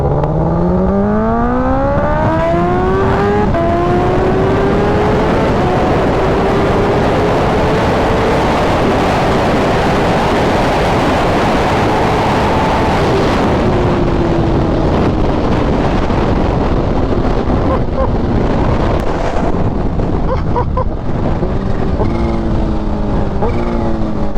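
A Kawasaki Ninja H2 with a flashed ECU and dyno tune, ridden in full power mode, winds up hard through several gears, its engine note climbing and dropping repeatedly beneath loud, constant wind roar.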